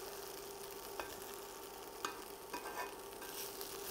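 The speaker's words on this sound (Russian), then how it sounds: "Томаты наши начали тоже прижариваться" Tomatoes fry in a pan, giving a steady soft sizzle throughout with a few faint clinks of stirring, close and fairly quiet, and no voices.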